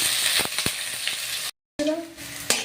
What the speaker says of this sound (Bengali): লাল লাল করে ভেজে নেবো পেঁয়াজ কুচিটাকে।